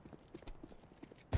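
Quick running footsteps in the CS:GO video game, a close series of rhythmic thudding steps that sound like hoofbeats, ending in a sharp louder hit.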